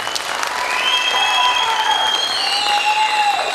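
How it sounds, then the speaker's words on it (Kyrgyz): Sustained audience applause at a stand-up comedy show, steady loud clapping from a crowd lasting several seconds, with faint tonal music or whistles over it. "чын жүрөктөн эркекче бир кол чаап коюңуздарчы"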